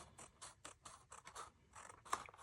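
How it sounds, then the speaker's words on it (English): Scissors snip and scratch through a sheet of 12x12 patterned paper, trimming away a white edge in a rapid run of close, crisp cuts that are quiet and heard alone. "I'm gonna take my scissors and I'm just gonna trim that white"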